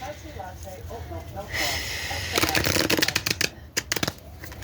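Tarot cards are shuffled in quick riffling bursts, crisp and close, after a brief soft murmur of a voice at the start.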